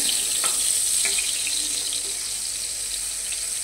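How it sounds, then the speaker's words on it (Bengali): Eggplant slices fry in a pan with a constant, fairly loud sizzling hiss and a few faint crackles. No one speaks. "এদিকে ভাজাটাও হয়ে যাচ্ছে।"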